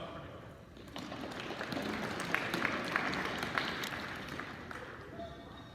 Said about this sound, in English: Second applause.